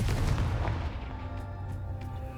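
Confringo blasting spell cast in Hogwarts Legacy, a loud booming burst at the start that rumbles and fades over a sustained low roar of game ambience.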